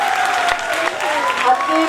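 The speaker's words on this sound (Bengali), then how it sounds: "আরেকটু জোরে হাততালি হবে।" Audience applause at a Durga Puja cultural event, a steady wash of clapping from a crowd lasting throughout, fairly loud and continuous with a brief swell near the end.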